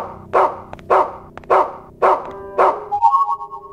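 In the video game Rule of Rose, a dog barks five times in a steady rhythm, each bark sharp and close, followed by a brief whine at the end.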